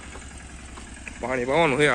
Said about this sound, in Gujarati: ટ્રેક્ટર જો આમ ચાલુ થઈ ગયું છે